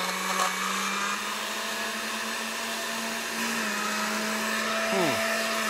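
A kitchen blender blending avocado runs with a steady, loud motor whine and hum throughout, its pitch dipping briefly near the end, with no talk.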